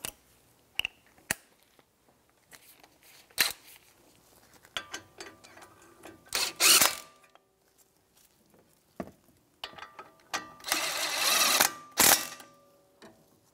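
Electric impact gun bottoming out the front brake mounting bolts on a 2011-2019 Ford Explorer with an 18 mm socket, intermittent mechanical clicks and ratcheting, with short loud bursts of tool whirring near the middle and end.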